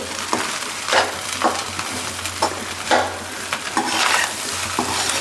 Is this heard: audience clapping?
no